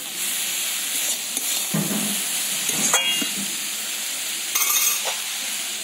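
Cabbage cooks covered in a pan on low heat, giving a steady soft sizzle and hiss throughout, close by and with no talk, broken by a few light metallic clinks and a brief scrape.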